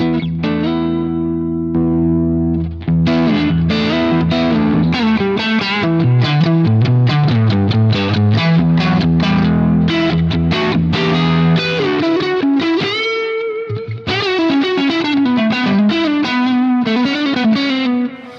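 An electric guitar with a Fractal AX8 boost plays loud, sustained lead lines and quick runs with a slightly driven, singing tone, continuous for nearly twenty seconds.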